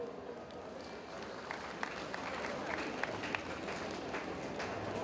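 Crowd applauding for a municipal official at a basketball final event, steady clapping from many hands sustained through the whole stretch with occasional sharper claps standing out.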